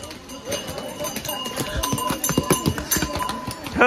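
Horse hooves clip-clop on a rocky glacier trail during a mountain trek in the Valley of Flowers area, a close, uneven run of hoof strikes mixed with people talking nearby.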